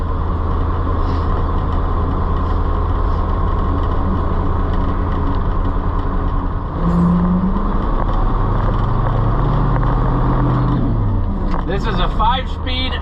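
A loaded truck with a 5-speed unsynchronized transmission works at a soybean harvest, its engine droning steadily up close, then rising and dipping in pitch as it is revved to find a gear.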